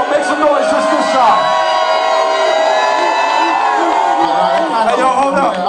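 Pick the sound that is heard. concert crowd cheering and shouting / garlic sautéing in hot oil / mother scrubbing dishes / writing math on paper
concert crowd cheering and shouting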